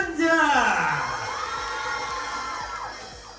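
A live audience at the Soul of Art 2026 stage show claps and cheers in a loud burst, whoops and shouts rising quickly and then fading into scattered applause.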